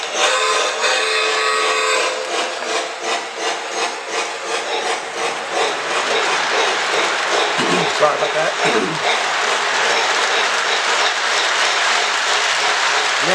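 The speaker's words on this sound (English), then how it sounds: "show you different angles of these trains running around" Model Christmas trains run around a track in a holiday village display, with a steady close clatter and rolling rattle of wheels over rail joints. A person speaks briefly partway through.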